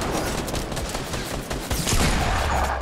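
Heavy video game gunfire in a Zoey match, a dense, continuous barrage of shots coming from many directions at once, loud and unbroken with no talking.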